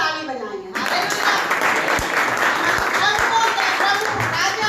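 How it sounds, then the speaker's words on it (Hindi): A church congregation claps together during a worship service, a dense, loud wash of applause that starts abruptly and continues steadily, with voices mixed in beneath it. "एक बार फिर से हम ताली बजाएंगे।"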